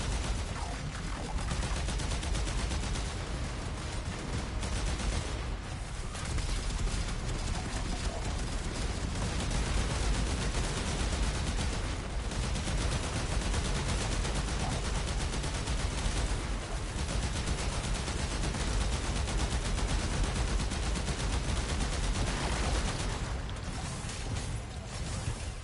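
Steady, relentless gunfire from Warframe's Heart of Deimos fills the space, a continuous rattling, mechanical stream of shots at even loudness throughout, with no talking.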